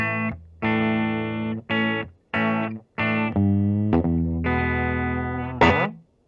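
A 2018 Gibson Custom Shop SG electric guitar is played plugged into an amplifier, a run of sustained, distorted chords with short gaps between strums and a final bent note, loud and alone.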